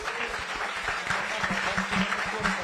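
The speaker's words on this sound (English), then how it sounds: "a huge round of applause for these athletes" Applause from the audience at a pre-race professional athletes' press conference for the IRONMAN World Championship in Kona, a steady dense patter of clapping with some low murmuring underneath.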